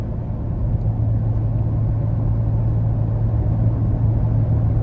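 A 2015 Ferrari California T on the move, heard as a steady, deep engine drone and rumble from inside the cabin, even in loudness and without speech.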